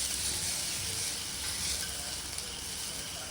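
Purple joyweed greens with grated coconut are stirred in a hot pan, giving a steady, close sizzle of frying throughout with no talking.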